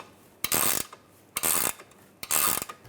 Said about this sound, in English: Now I'm going to tighten this nut down.